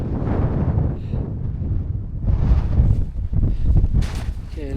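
Strong wind buffets a microphone on a mountain once blasted apart by explosives, giving a low, rumbling, gusting roar throughout that swells and eases, with faint shifting noises underneath.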